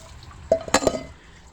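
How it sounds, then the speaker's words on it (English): Boiling hot water poured onto ice gives a brief, close splash with a few sharp crackling pops that quickly fade. "we've decided to pour hot water, boiling hot water in here"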